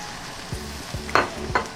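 Green beans and tempeh sizzle in a pan over medium heat for Indonesian tempeh orek, with several distinct spatula scrapes and stirs at a steady pace, close up.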